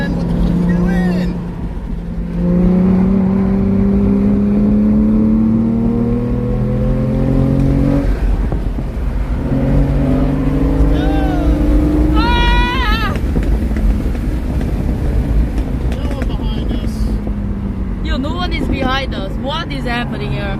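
A Porsche Turbo S sports car drives a rally course, its engine droning and climbing in pitch through repeated acceleration runs, loud and close, with people talking over the engine noise.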